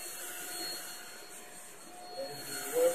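A Shark Rocket Ultra Light HV382 stick vacuum runs with a steady, airy whine at moderate level, swelling slightly near the end as it moves.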